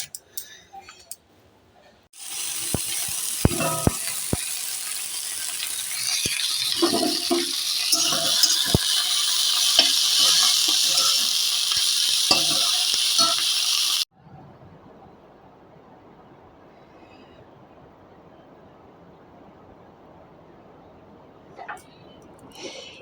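Food sizzles loudly in a pan during home cooking, a steady hiss with scattered clicks and clatter for several seconds before cutting off abruptly, leaving faint room noise.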